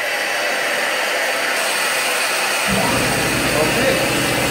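Compressed air hisses steadily as it vents from a dry-pipe sprinkler system, and a lower rumbling drone joins partway through and continues beneath the hiss.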